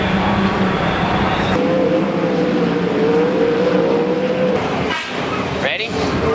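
Sprint cars racing on the dirt track at the Knoxville Nationals, a steady loud engine roar with a rising whine as cars pass, plus a couple of sharp sweeping passes near the end.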